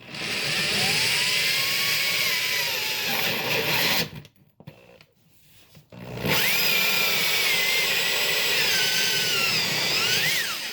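A drill bit bores down through the floor of a bus into the metal beneath during a conversion build. It makes a loud, continuous grinding whine that cuts out for about two seconds midway, then starts again at full strength.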